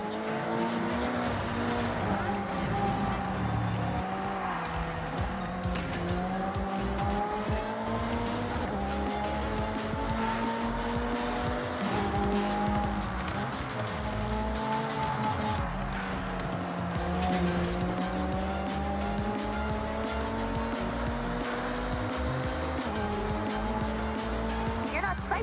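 Racing cars in the video game Forza Horizon 6, engines droning steadily with rising and falling pitch sweeps as gears shift, continuous and fairly loud, with a voice talking over parts of it.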